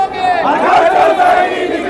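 A large protest crowd in Lucknow, gathered after Ayatollah Khamenei's death, shouts and chants loudly in a dense, continuous roar of many voices throughout.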